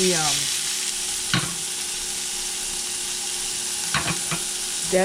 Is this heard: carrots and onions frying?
yes